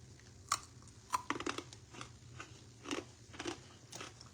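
Crispy bacon, cooked for an hour, gets bitten and chewed up close, with sharp crunches and crackles in an uneven rhythm over a quiet background and no talking.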